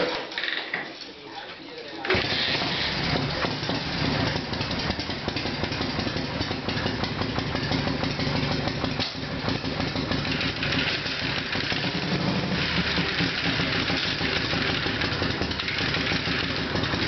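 A 1984 FX motorcycle engine starts after about two seconds and settles into a steady, close idle that runs on with faint mechanical clicks while someone tries to select neutral; a voice talks over it.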